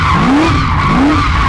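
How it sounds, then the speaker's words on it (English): An HSV GTO coupe doing circle work, its tyres skidding with a loud, continuous squeal that rises and falls in pitch, close up, with no talking. "So here we are, just doing a bit of circle work."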